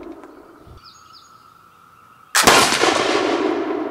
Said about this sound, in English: we shot it at 50 yards